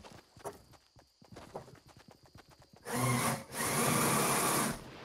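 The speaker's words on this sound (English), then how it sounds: "He's using a power drill." Power drill used in a multiplayer shooter video game, first some scattered knocks and taps, then two loud, sustained bursts of whirring close by.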